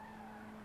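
Car tyres squealing and spinning in a video game, one sustained screech lasting under a second, loud and steady with no talk.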